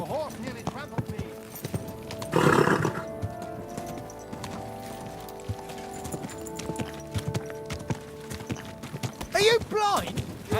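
Horse hooves clip-clopping on a street in the medieval video game Kingdom Come: Deliverance II, a steady nearby rhythm of hoof strikes under people talking and shouting, with a brief whinny near the end.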